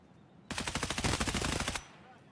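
Rapid automatic gunfire in Escape from Tarkov, a loud burst of about a dozen closely spaced shots lasting over a second, then abrupt quiet.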